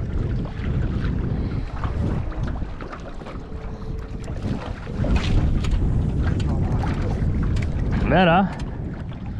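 Wind blows steadily across a small boat out flats fishing, a constant broad rush and buffet on the microphone running the whole time, with brief speech over it and a short whistling tone near the end.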